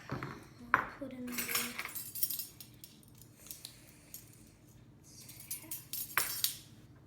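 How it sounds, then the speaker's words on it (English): A small whisk clinks and scrapes against a bowl while mixing ingredients including salt, with quiet irregular metallic taps and rattles coming in short bursts, close and fairly soft. "I'm just using a small whisk."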